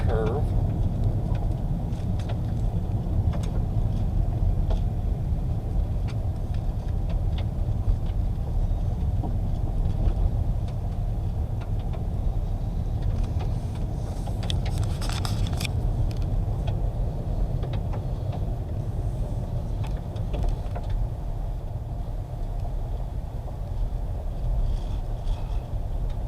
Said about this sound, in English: what's it like driving on a typical gravel road in America?